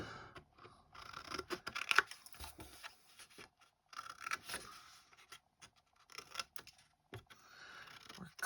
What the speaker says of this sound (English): Cutting just little triangles out at all of our met score lines.